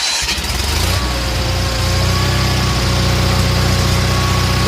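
An Onan engine on a Miller AEAD200LE welder, running after a fuel change and a leaned carburetor, roars loud and close in a steady, constant drone as it settles onto the governor.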